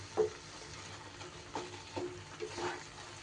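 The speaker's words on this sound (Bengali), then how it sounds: "এইবার সম্পূর্ণ মশলা দিয়ে একটু মশলাটা এইভাবে মিশিয়ে নিচ্ছি।" A spice paste for a bottle gourd dish stirred in a pan, faint soft scraping and light sizzling with a few brief clicks of the spoon against the pan.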